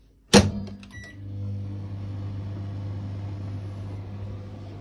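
Microwave oven powered off-grid from batteries: a sharp click as it starts, then a loud, steady droning hum that carries on evenly to the end.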